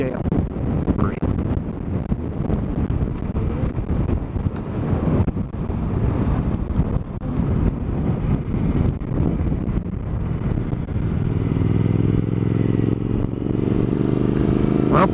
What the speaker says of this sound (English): it's the worst day to come over here, the wind